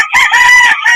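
A rooster on a small Filipino farm crows one loud, close cock-a-doodle-doo with a strained, harmonic call that cuts off abruptly.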